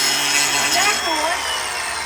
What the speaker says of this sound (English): Somebody's actually using the grinder.